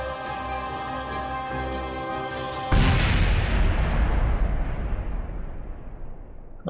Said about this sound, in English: the Octorok 2 has impacted the surface of Minmus